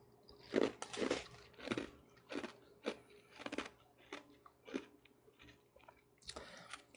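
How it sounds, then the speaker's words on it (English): Crunchy nugget ice being chewed close to the mouth, a series of irregular crisp crunches about once or twice a second, fairly faint, with no talk over it. "It has to be that crunchy nugget ice."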